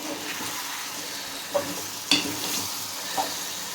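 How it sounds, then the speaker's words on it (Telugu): A brinjal and dried fish curry with coriander is stirred in a hot pan. It sizzles steadily, and three or four distinct scraping strokes land close by. "ఇప్పుడు లాస్ట్లో కొంచెం కొత్తిమీర వేసి ఒక్కసారి ఇలాగా కలిపి"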